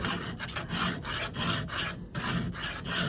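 A hand file sharpens a tooth on a Husqvarna 395XP chainsaw chain in repeated harsh rasping strokes, close and loud, with a steady back-and-forth rhythm and no talking.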